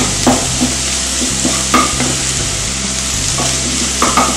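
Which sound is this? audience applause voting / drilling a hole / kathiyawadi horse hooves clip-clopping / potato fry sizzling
potato fry sizzling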